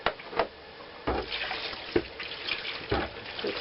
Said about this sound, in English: Handy dandy water jug.